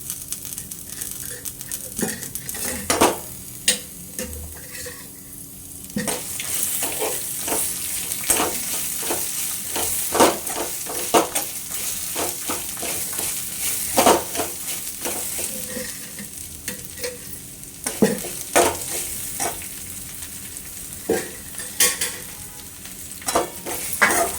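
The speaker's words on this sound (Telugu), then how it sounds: "కొంచెం వేగినాయి" Peanuts fry in a little oil in a pan for ridge gourd peel chutney, a steady close sizzle broken by frequent sharp scraping and stirring strokes, with no talk.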